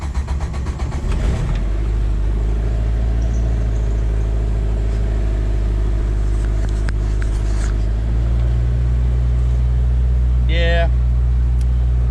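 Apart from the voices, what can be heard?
Jeep Wrangler engine idling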